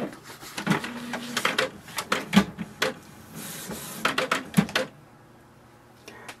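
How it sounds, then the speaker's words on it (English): A Canon printer powers up with a series of close mechanical clicks, whirs and clunks from its internal motors, coming in irregular bursts before settling into quiet. "Now switch on the printer."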